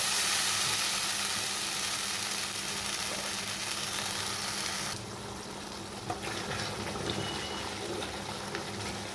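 Masala paste sizzling and frying in a pan for a Bengali chitol fish curry, a steady close hiss with a change partway through, no talk.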